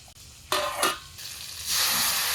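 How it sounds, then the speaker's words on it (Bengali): Mutton curry with tomato in a pan sizzles loudly as hot water is poured in, with short bursts of hissing followed by a steady, rising sizzle. "এখন অল্প অল্প গরম জল দিয়ে কষাবো।"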